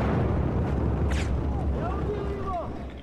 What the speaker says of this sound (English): And then there's an explosion.